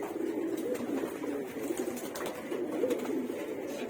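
Pigeons in a loft coo softly and repeatedly at close range, low rolling calls overlapping each other against a quiet background with a few faint rustles and no talking.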